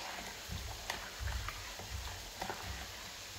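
A spoon stirs soaked rice with coarse salt in a single cooking pot of hot water, giving scattered scrapes and light clicks over a low bubbling background.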